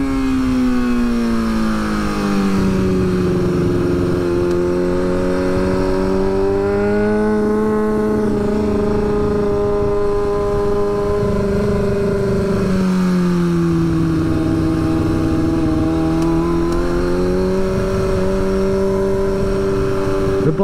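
Kawasaki ZX6R Ninja 636 motorcycle engine revving hard in first gear, a loud, close, continuous tonal howl that rises and falls in pitch over about twenty seconds with no pauses.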